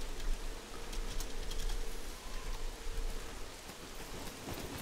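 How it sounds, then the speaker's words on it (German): Steady rain in the survival game SCUM hisses as a soft, even wash of drops, joined by faint scattered tapping and clicks, quiet and continuous with no voices. "es fängt schon wieder an zu regnen"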